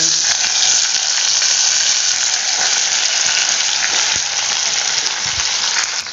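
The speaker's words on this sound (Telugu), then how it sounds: "ఎండుమిర్చి, మినపగుళ్ళు అన్నీ పోపు దినుసులన్నీ వేసేసుకున్నామండి. చిటపట్లాడుతున్నాయి." Dried red chillies and urad dal spluttering in hot oil for a Telugu majjiga pulusu tempering, a loud, steady, close hiss-and-crackle that fills the whole stretch.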